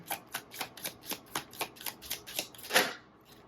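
Angel Number Oracle cards being shuffled in a steady series of about a dozen crisp riffling bursts, close and quiet, ending with one louder slap.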